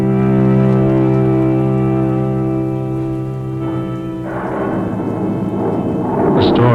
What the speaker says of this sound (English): The storm swoops down.